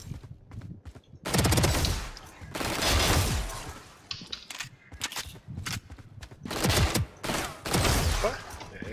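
A Stinger submachine gun fires in a video game in several rapid bursts of automatic fire, loud and close, separated by short pauses with faint mechanical clicks and footsteps, while a voice talks between the bursts.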